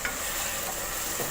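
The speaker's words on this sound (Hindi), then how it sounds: "घी में फ्राई करने से टमाटर मैश हो जाते हैं बहुत अच्छे से।" Tomatoes fry in ghee for a dhaba-style bhindi gosht while being stirred and mashed, giving a dense, close, continuous sizzle with faint scraping underneath. No one speaks.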